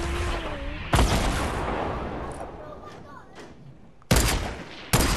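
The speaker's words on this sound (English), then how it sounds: "If you lost all your guns, why'd you shoot an RPG?" Rocket launcher blasts in Fortnite come as sharp, loud booms, one near the start and two more close together at the end, over busy game noise in between.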